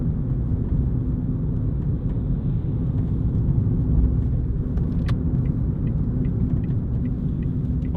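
Steady low engine rumble and road drone inside a Ford Fiesta 1.4 TDCi diesel panel van, continuous and fairly loud with no talking.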